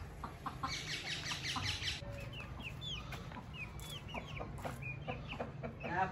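An Aseel rooster and hen cluck and chirp nearby in short repeated calls, over a steady low rumble of background noise.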